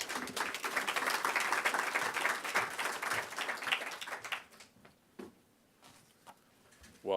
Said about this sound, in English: please give a round of applause to Paul Watkins